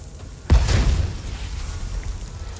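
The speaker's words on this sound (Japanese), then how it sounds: "爆発するっそ" An explosion in the video game Resident Evil 4, one sudden deep boom with a brief rumbling tail that fades over about two seconds, close and loud against quiet game ambience.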